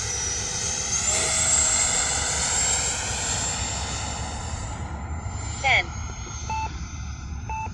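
An E-flite 80mm F-16 AS3X+ electric ducted-fan model jet flies slowly overhead, its steady whining fan tone holding through most of the stretch, fading near the end with a few short electronic beeps at the close.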